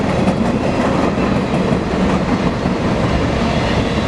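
A long BNSF mixed freight train rolls eastbound past at close range, a loud, continuous rumble with rhythmic wheel clatter on the rails throughout.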